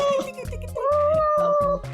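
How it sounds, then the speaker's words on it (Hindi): A cat meows with a drawn-out, wavering cry at close range, heard over a rhythmic thumping beat and some background voices in a TV drama scene. "इतना प्यार करते हो ना तो बिल्ली को संभाल के रखो"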